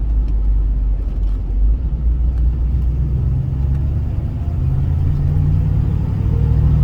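A 1978 Pontiac Trans Am with the 400 V8 and four-speed manual cruises along quiet back roads, its deep engine rumble loud and steady from inside the cabin, with a slight rise in pitch as it pulls.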